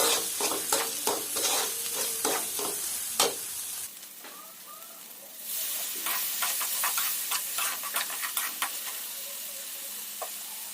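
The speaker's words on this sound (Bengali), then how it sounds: "এই তো এখন মোচা ভাজি করব, তেল দিয়ে দিলাম।" Banana flower frying in hot oil on a gas stove, with a steady close sizzle broken by stirring scrapes and knocks of a utensil against the pan, then a brief quieter pause before the crackling returns.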